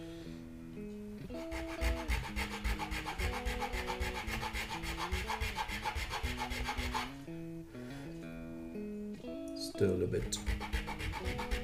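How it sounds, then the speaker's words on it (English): A small nut file rasps back and forth in the slots of a guitar nut, scraping out hardened glue in quick repeated strokes, close and steady, with a person speaking briefly. "So I've got this nut file from StuMac. It's just to neaten up the insides of these slots."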